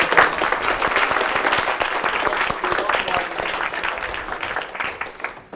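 An audience at a physics lecture on superfluid vortex reconnection applauds steadily, dense clapping filling the room for several seconds and tapering slightly toward the end.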